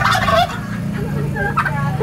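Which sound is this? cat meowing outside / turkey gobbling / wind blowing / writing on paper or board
turkey gobbling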